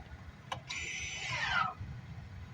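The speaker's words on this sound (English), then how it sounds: "I'm going to engage the parking brake." An electric parking brake in a 2023 Chevrolet Malibu LT engages: a soft click, then a short, faint whirring motor buzz of about one second inside the quiet cabin.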